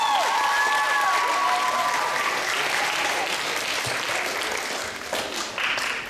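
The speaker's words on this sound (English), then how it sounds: "A wonderful round of applause for Mr. George." Steady, loud applause from a jazz concert audience fills the whole stretch, dense clapping with a few whistles near the start and a brief voice or shout toward the end.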